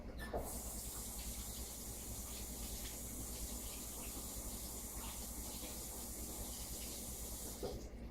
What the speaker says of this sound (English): I'm gonna kind of get all this nasty stuff off my hands. Rinse them off real quick.